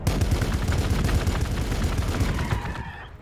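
Gunfire from troops in the strategy game Warhammer 40,000: Gladius, a dense, loud rattle of rapid shots and impacts that continues without a break for about three seconds, then fades into a short ringing tail.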